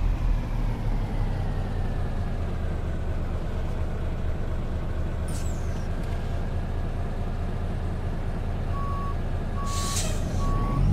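A truck backing up toward a freight trailer, its reversing beeper sounding in steady evenly spaced pulses over a constant low engine rumble, with a faint hiss of air brakes near the end.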